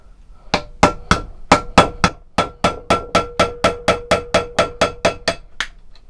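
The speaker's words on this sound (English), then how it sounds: "Just get a flathead screwdriver and just chisel it out." A hammer strikes a flathead screwdriver used as a chisel to cut metal on a bought sword blade, about seventeen crisp, ringing metallic blows at a steady, slightly quickening rhythm, close and loud with no talk.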